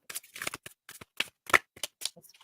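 A deck of cards is shuffled for a card reading in quick, uneven papery riffles and flicks, close and fairly soft, with no talking.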